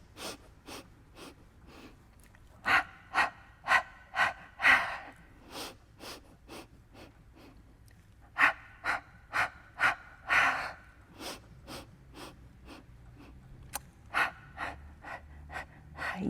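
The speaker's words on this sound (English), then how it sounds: "So 5 separate inhales in, and then 5 separate exhales out." Pilates breathing on a reformer: sets of five short, separate sharp breaths, forceful and close, repeated in rhythmic groups with quiet gaps, some breaths more drawn out and hissing.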